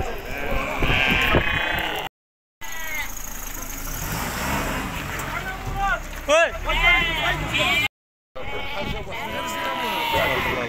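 Sheep bleat repeatedly at a livestock sale where lambs are offered at auction, several calls close by and loud over a busy crowd, with people talking and haggling throughout.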